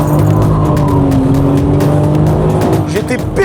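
A car with a slipping differential spins one wheel at a large rally gathering in Japan, engine revving loudly with tire squeal and passing cars, under a voice talking.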